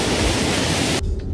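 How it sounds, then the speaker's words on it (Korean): A mountain stream in a mossy valley rushes loudly in a dense, close, broadband roar like a small waterfall, then cuts off abruptly near the end, with no talking. "거의 폭포네요."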